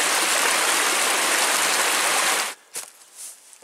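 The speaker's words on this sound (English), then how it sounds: "It's a good water flow." Jackson Creek flows strongly beside a campground on the Superior Hiking Trail, a loud, steady rushing hiss of water that cuts off abruptly partway through, leaving a few faint knocks and rustles.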